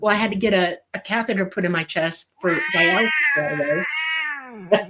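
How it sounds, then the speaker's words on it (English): A cat meows in a long, drawn-out call partway through, rising over someone talking nearby; the voice carries on before and around the cry. "That's the cat."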